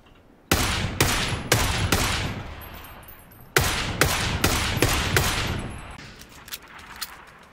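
Automatic gunfire in PlayerUnknown's Battlegrounds, loud close bursts of rapid shots in two main volleys separated by a pause, trailing off into a few scattered, fainter shots.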